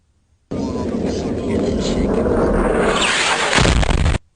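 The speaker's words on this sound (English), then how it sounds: "this is what the JDAMs sound like." A loud, sustained roaring rush of broadband noise from a JDAM bomb builds steadily for several seconds, swelling near the end before cutting off abruptly, like a bomb blast.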